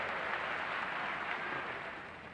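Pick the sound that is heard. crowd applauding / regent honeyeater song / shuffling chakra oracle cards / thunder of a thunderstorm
crowd applauding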